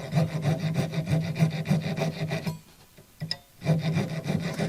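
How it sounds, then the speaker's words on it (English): A jeweler's saw with a very thin blade cuts through metal for ring making, giving a fast, rhythmic rasping of close back-and-forth strokes that pauses briefly before resuming. "Now this is a jeweler's saw, so it has a very thin blade, so you're not removing much metal."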